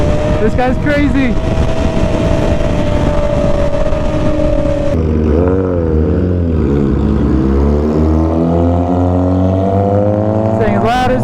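A loud sport motorcycle, a GSXR 600 or 2021 Ninja ZX6R KRT Edition, roars at high revs, then drops and climbs again through rising gear pulls, close and constant, with a voice heard over it.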